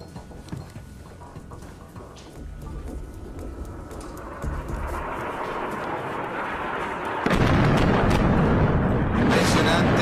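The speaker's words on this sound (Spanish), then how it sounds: "Fíjese la explosión y cómo queda destruido en cuestiones de segundos" Explosion destroying a bridge in southern Lebanon, a rumbling roar building steadily and then jumping to a loud, dense, sustained blast with crackling debris, heard alone.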